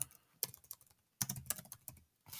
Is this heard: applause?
no